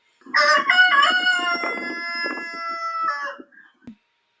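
A rooster crows once, a long loud drawn-out call close up, with a couple of short clucks trailing off at the end.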